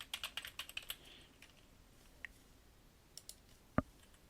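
Fast bursts of keystrokes on a computer keyboard, a quick run of clicks at the start followed by a few scattered taps and one sharper thump later, all fairly quiet with no talking.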